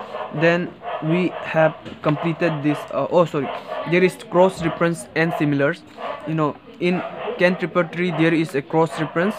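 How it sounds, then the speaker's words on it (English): Dogs bark intermittently outside in the background, faint and partly masked, while someone talks steadily over them. "there are dogs barking outside"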